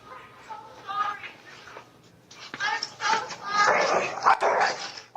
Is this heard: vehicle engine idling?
no